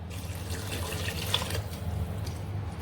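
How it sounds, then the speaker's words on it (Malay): Water pours steadily into a cooking pot for mutton biryani, a continuous close, bubbling splash with no break and no talking. "sekarang kita masukkan air dia."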